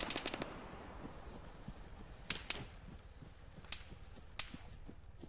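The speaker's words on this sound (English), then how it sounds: "I can hear some gunfire out there, so let's investigate" Machine gun fire in the video game Arma 3 during a King of the Hill match, steady faint distant gunfire with scattered sharper shots and bursts throughout.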